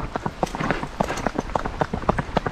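The horse Exótica de Soviético walks with quick, crisp hoofbeats in a rhythmic clip-clop, heard close and loud.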